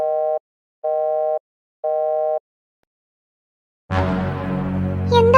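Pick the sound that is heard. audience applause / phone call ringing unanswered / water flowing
phone call ringing unanswered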